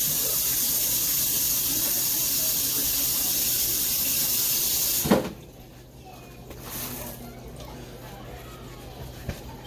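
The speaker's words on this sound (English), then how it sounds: "I'm going to wash my hands." Hands are washed under a running kitchen tap, a steady loud hiss of water for about five seconds before it shuts off abruptly, followed by quieter handling sounds and a faint knock.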